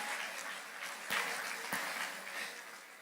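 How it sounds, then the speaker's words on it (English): Applause for award winners at a university congregation ceremony, a steady wash of clapping from a seated crowd, fairly faint and distant throughout, with no voices over it. "A big round of applause."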